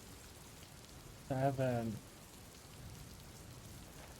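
A torrential rain ambience effect plays as a steady, soft wash of hiss in the background of a tabletop role-playing game session, while a voice briefly speaks over it.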